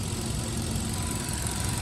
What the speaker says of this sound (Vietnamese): Máy đang nổ rồi mọi người, hiện tại máy đang nổ.